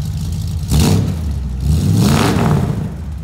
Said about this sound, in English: Want to give it a few revs?